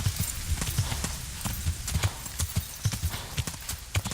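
Horse hooves from Kingdom Come: Deliverance clip-clop in a steady trotting rhythm, close and fairly loud, with regular thuds repeating over a faint background hiss.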